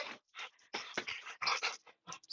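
A pet dog whimpering and panting close by indoors, quick bursts of breathy huffs and soft whines in an uneven rhythm with short pauses between.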